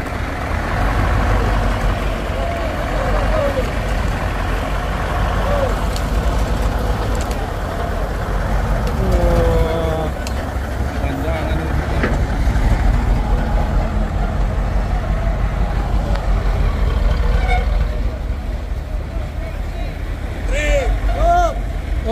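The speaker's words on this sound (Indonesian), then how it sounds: "Trailer kontainer Fuso. Trailer kontainer menarik." A Fuso container trailer truck's engine rumbles steadily and loudly throughout while towing a nearly toppled truck on a hill, with voices talking over it and occasional higher mechanical whines.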